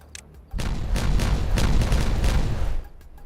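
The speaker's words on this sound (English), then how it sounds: "Yeah, they built this dynamite. So let's detonate that." Dynamite detonating in a colony-building video game: a loud rumbling blast of about two seconds with crackling, rolling booms, close and full, then cutting back to quiet.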